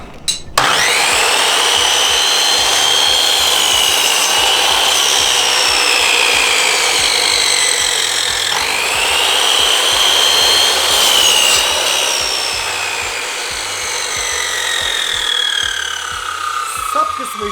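A power saw whines loudly through wood in one long continuous cut for a homemade katana, its pitch dipping midway and rising again before trailing off.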